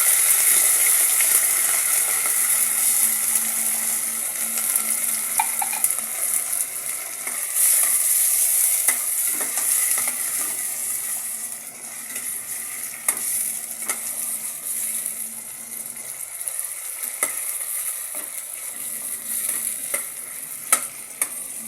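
Sardines fry in a hot pan with a bright, continuous sizzle and hiss, occasional spatter pops and light stirring scrapes, heard close and alone with no talking.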